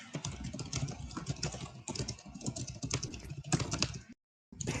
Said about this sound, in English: For some reason, my keyboards always come in really loud.